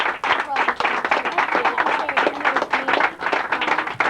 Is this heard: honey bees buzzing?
no